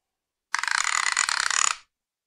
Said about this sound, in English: a wrench with a 2¼ inch open end and a ratchet